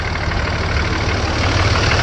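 A swapped-in Cummins turbo diesel, running on all six cylinders, idles close by with a steady, even low rumble and no change in pace across the short stretch.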